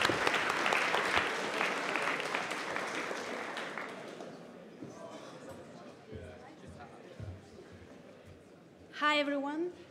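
A conference audience at a hackathon opening ceremony applauds loudly at first, the clapping fading away over a few seconds into quiet room murmur, with a brief voice near the end.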